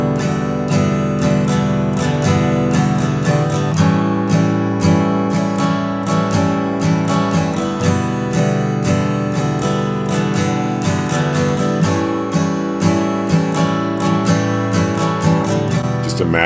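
An acoustic guitar strums the chords of a song intro in a steady, flowing rhythm, full and close, with no talking over it.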